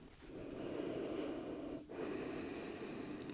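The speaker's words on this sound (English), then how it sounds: "Breathing here." Slow, audible ujjayi yoga breathing during child's pose, a steady breathy rush that holds for several seconds with one brief pause before resuming, close and alone.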